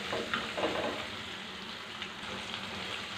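Onions and green chillies sizzle steadily in a hot pan, a continuous close crackling fry with faint stirring scrapes and no talk.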